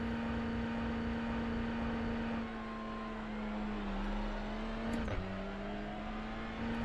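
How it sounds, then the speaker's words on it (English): A Honda TCR race car in iRacing holds its engine at high revs for a standing start, a steady loud droning whine that dips briefly and climbs again, close and continuous with no talking. "So now we'll rev it up."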